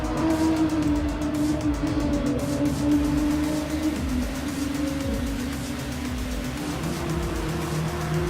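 A Nissan race car in the Gran Turismo video game, its engine droning loud and steady with shifting revs throughout, with no one talking over it.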